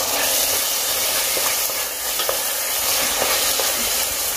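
Chicken breast pieces frying with browned onion in a pot, a loud, dense, continuous sizzle and crackle close up throughout, no talk.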